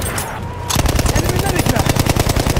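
Sustained machine gun fire in the video game Battlefield 1, a fast, loud rattling burst that kicks in after a brief lull and keeps hammering steadily in a rapid rhythm, with game ambience underneath.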